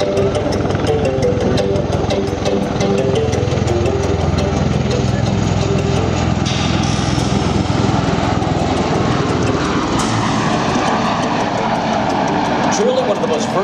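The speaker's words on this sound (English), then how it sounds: "Let's watch now as the MV-22 Osprey demonstrates the rolling takeoff capability." MV-22 Osprey tiltrotor aircraft making a rolling takeoff at a Rhode Island air show: a loud, steady rotor and engine roar fills the whole stretch, with a crowd-noise wash and a public-address voice talking beneath it.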